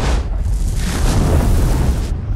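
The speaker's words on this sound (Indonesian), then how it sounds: "sialnya tank tersebut meledak tanpa sebab" A tank exploding in a war film scene: a loud, deep, sustained blast rumble lasting about two seconds before cutting off.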